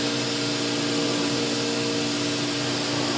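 A freeze dryer processing sea cucumber runs with a loud, constant whirring hum like a vacuum pump, steady and unbroken throughout with no speech.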